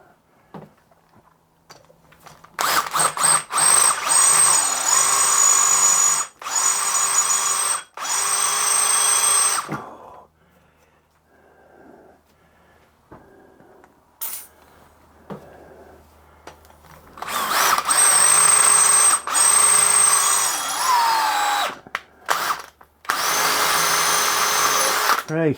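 A power drill bores through a broken turbo stud in loud, sustained whirring runs that start and stop repeatedly, with quiet pauses and faint metallic handling in between.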